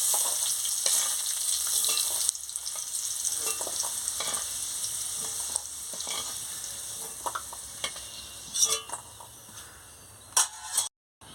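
Potatoes frying in oil in a pan, a constant close sizzle and crackle with occasional spatula scrapes and stirring clicks.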